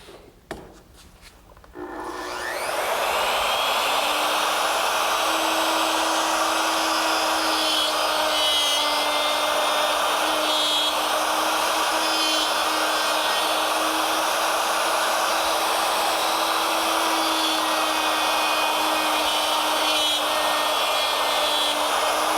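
A power tool runs a loud, steady whine while cutting dovetail pins in a wooden drawer front, starting after a few brief knocks and continuing evenly throughout.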